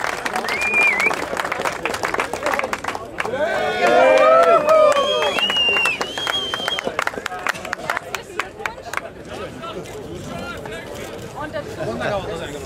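A crowd applauds the winner of a cafe racer 1/8-mile sprint at a motorcycle event, with a burst of clapping and cheering and a loud announcer talking over it.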